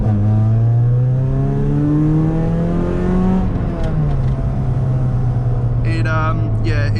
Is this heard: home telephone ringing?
no